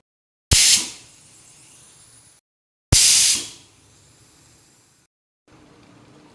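A small pressure cooker cooking mixed dal releases steam in two sharp, loud hissing bursts. Each burst fades slowly over about two seconds and the two are separated by short silences.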